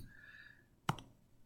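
A single sharp click of a calculator key being pressed while a formula is typed in, heard alone and fairly close in an otherwise quiet room.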